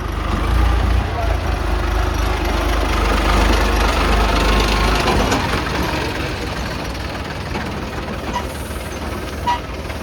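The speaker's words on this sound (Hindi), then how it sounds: "और वही पर ये ट्रैक्टर वाला आया है।" A tractor engine idles nearby at a grain market weighbridge, giving a loud, steady low throbbing rumble that eases off slightly toward the end, with background voices around it.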